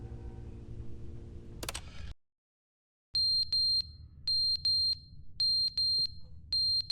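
In The Stanley Parable video game, a ceiling smoke alarm sounds repeated sharp, high electronic beeps in paired and triple bursts after a short silence, over a low hum.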